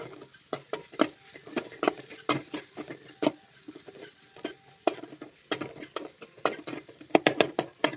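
Repeated scraping and clinking of a spoon stirring chicken liver frying in a pan, irregular strokes over a soft background sizzle, close up.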